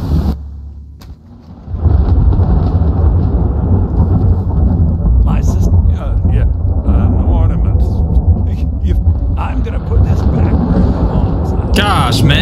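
Thunderstorm with rain in the video game Skyrim, a loud, deep rumble of thunder rolling over steady rainfall, with a brief quiet opening before the storm swells.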